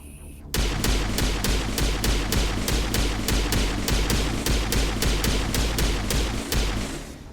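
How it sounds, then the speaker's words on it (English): Rapid, evenly spaced gunfire from Mass Effect, shot after shot in a steady rhythm for several seconds over a dense, loud game backdrop after a brief quiet start. "Back to the pistol for a bit."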